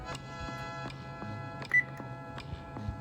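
An oven timer being set, a series of short, evenly pitched electronic beeps repeating at a steady pace, close and clear over a faint background hum, with no voices.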